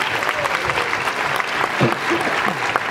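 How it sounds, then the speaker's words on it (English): Audience applause for third graders at a 2013 school holiday concert, a steady crowd of clapping hands with faint murmuring voices mixed in, filling the whole stretch at even loudness. "So can we give them one more round of applause?"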